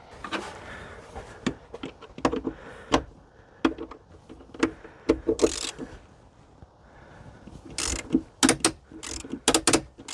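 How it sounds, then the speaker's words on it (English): Ratchet wrench clicking as it turns a battery bolt on a 2013-2018 Ford C-Max, sharp close ticks in uneven bursts with pauses and a few clunks of the tool. "Maybe I'll get a bigger extension and bring it up here so I'm not trying to flex the ratchet."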